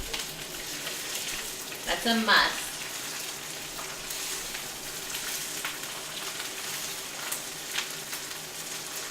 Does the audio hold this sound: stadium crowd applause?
no